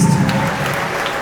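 Church congregation applauding together, a dense burst of clapping that starts loud and thins within about a second, heard close and on its own.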